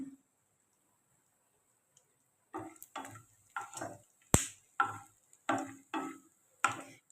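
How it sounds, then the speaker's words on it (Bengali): Peanuts frying in a pan at home: a series of about eight sharp crackling bursts at a steady rhythm, close and moderately loud, following a stretch of near silence. "একটু বাদাম ভাজছি"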